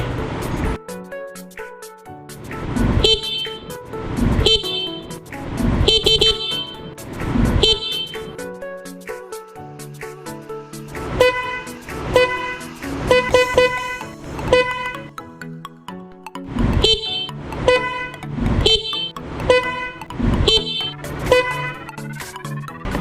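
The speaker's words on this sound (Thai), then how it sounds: "เสียงแตรจะเป็นลักษณะแตรลมไฟฟ้านะครับ" Loud electric air horn fitted to a Demon GR200R motorcycle honks in short bursts and clusters, some rapid double toots, repeating throughout with brief gaps between groups.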